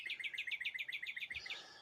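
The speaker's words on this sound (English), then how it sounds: "It's morning. The birds are howling." Morning birdsong with a rapid series of bright, repeated chirps in a steady rhythm, clear and fairly close, lasting under two seconds, with no voices.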